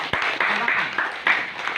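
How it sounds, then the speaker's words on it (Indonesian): Audience applause at a community gathering, brief bursts of clapping in a hall, fairly loud and close, mixed with voices. "Nah, tepuk tangan ini."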